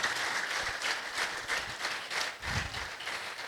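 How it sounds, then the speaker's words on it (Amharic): Audience applause at a Christian mothers' thanksgiving and gift program, a steady wash of many hands clapping throughout, moderately distant and even, with a slight swell near the end. "እስቲ አጨብጭቡላችሁ።"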